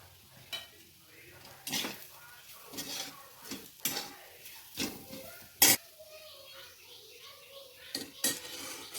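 A spoon stirring leftover chapati churma in a metal pan, with irregular clinks and scrapes against the pan spaced over several seconds, close and fairly quiet under a low background.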